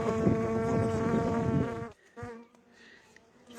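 Honey bees buzz densely at an apiary, a loud, close, layered drone that cuts off abruptly partway through, leaving fainter buzzing and some handling noise.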